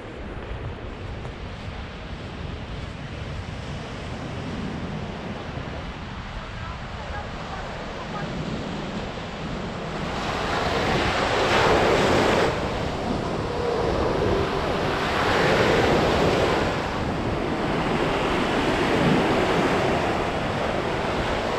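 Waves of the Baltic Sea roll onto the beach at Jastrzębia Góra, a steady rush of surf that swells into louder breaking washes in the second half, with wind buffeting the microphone.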